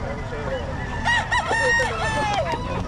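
Rooster crowing at a roadside stall selling cheap chickens, a clear nearby cock-a-doodle-doo rising over constant street noise and background chatter.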